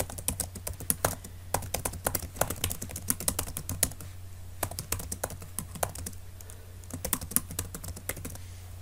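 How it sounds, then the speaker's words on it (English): Steady typing on a computer keyboard, a run of quick close key clicks with short pauses, recorded alone over a low constant hum while text for a scrapbook page is entered. "I'm just going to type in"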